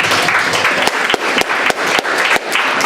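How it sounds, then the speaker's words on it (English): Applause for two ambitious groups at a sales awards event: a dense, continuous patter of many hands clapping close and loud, broken by a few sharper individual claps. "So I want to clap for you."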